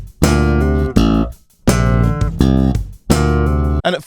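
A stomp slap bass line on electric bass guitar plays as loud, punchy phrases of percussive thumped and popped notes, each phrase cut off by short silences.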